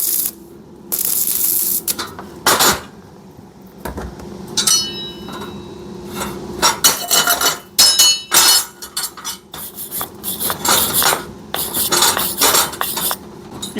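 Sharp metallic clanks, taps and crackling bursts come from tack welding and hammering on a metal pipe during a practical energy-management trade exam, irregular and loud, with quiet gaps between strikes.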